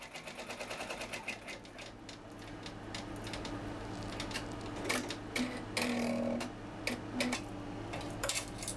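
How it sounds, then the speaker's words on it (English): A home embroidery machine sews a placement stitch for fabric on an in-the-hoop rainbow pouch, giving a quick steady mechanical ticking and clatter with a few sharper knocks, fairly quiet and close. "the first thing that's going to stitch is the placement stitch for this fabric"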